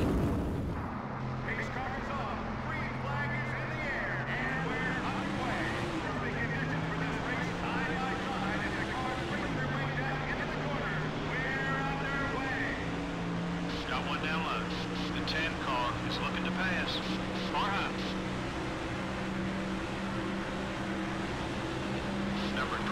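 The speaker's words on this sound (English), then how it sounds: "The engines have fired and the cars are rolling off pit road here at Texas Motor Speedway" Stock car engines from NASCAR Thunder 2004 drone and rev in shifting pitches as cars roll off pit road at Texas Motor Speedway, a continuous loud roar under a commentator's voice.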